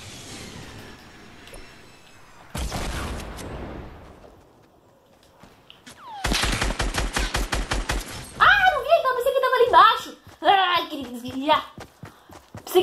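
Gunfire in a shooter video game heard through a gaming headset, with bursts of rapid shots and a loud rattling volley, separated by quieter stretches, while a person talks excitedly over the action.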